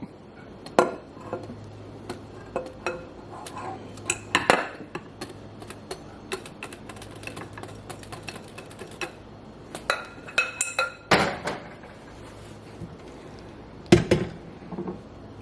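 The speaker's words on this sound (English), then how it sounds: "You want to take your flour mixture and you want to add it, and you want to mix it just until it's combined" A spoon or spatula knocks and scrapes around a bowl while flour is folded into pumpkin cream cheese muffin batter, giving irregular close clinks and taps with quiet gaps between, no talking.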